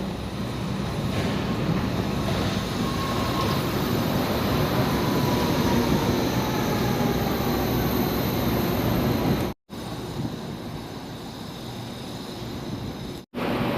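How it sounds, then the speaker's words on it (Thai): A Bangkok Yellow Line train rumbles and roars steadily as it pulls in, a broad loud whoosh of wheels and motors, broken by two brief cuts near the end. "ตอนนี้รถไฟสายสีเหลืองเข้ามาค่ะ"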